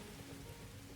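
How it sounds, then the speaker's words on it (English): Steady, dense rain pours down in the train simulator game Derail Valley, a loud, even hiss of drops drumming on surfaces with no voices. "The rain is very, very loud."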